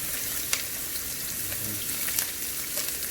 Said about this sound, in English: Then I'm gonna add some onions in here, some red chili for the smoke.